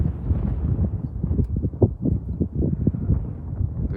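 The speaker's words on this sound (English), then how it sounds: "I don't know if you can hear me with the wind." Outdoor wind in an open field buffets the microphone with a steady, low, rumbling roar and uneven gusty thumps throughout.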